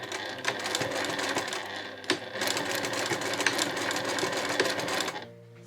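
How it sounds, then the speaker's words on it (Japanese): Sewing machine stitching a narrow seam along the folded-under edge of cotton fabric for a two-way shoulder bag, running steadily and close with a rapid mechanical whir and small clicks, then slowing to a stop near the end. "反対側は5ミリほど折り込んでこの際を縫います"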